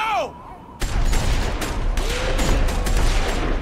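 Gunfire in a TV series scene erupts after a brief pause: a loud, sustained barrage of overlapping shots and bursts, dense and close, with a voice briefly shouting over the volley.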